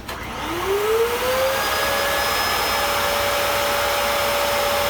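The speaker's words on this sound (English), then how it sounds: "let's plug the vacuum in and just see what happens." A vacuum cleaner powered from a DIY portable power station starts with a rising whine, then settles into a loud, steady motor roar with a constant high tone that holds to the end.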